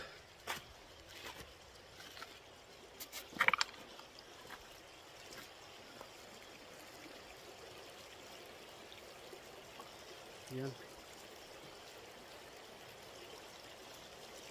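Small river in the Philippines flowing quietly, a faint, steady trickle and wash of water throughout, with a few brief knocks and a short spoken word near the start.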